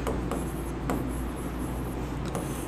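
A pen or marker scratches across a board in short, rhythmic strokes, close and fairly loud against a steady background hiss, with no voices.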